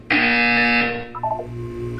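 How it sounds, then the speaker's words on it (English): A loud electronic buzzer from the Portal 2 video game sounds alone as one steady, harsh, tonal blast lasting about a second, then fades into quiet synthetic chimes and a low hum. "You will hear a buzzer."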